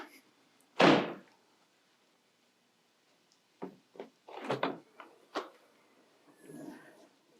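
A single loud thunk opens the trunk of a 2022 Ford Mustang GT500, followed after a pause by a few lighter clicks and knocks of the lid and trim, close and otherwise quiet.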